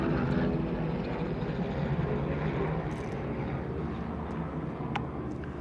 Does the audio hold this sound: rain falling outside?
no